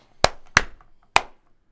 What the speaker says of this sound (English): Let's do clap test real quick